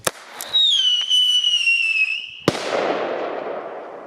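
Toy rocket pistols fire: a sharp pop, then a loud rising whistle that holds for about two seconds and ends in a crisp bang followed by a fading hiss, all close by.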